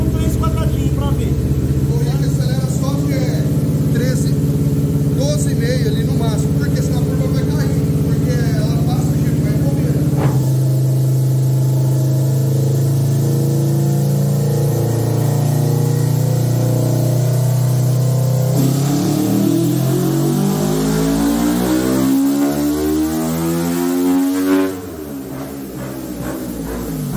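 A motorcycle fitted with a Power aftermarket exhaust and no air filter revs hard on a test bench, a loud sustained engine drone climbing and falling in pitch, with people talking over it.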